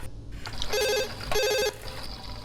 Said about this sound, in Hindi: देखो जरा किसका फोन है।